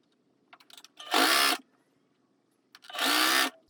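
Coverstitch sewing machine hemming a knit T-shirt, running in two bursts of rapid whirring stitching, each about half a second, close and fairly loud, with light handling clicks between them.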